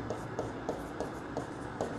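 A pen writing on paper, quiet rhythmic scratching strokes repeating roughly every third of a second, close and alone with no talk.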